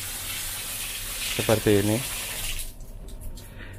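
Water pours from a wooden spout shower in a beach-view guesthouse bathroom in Gunung Kidul, Yogyakarta, as a steady, close rushing hiss. Someone speaks briefly over it before the flow cuts off.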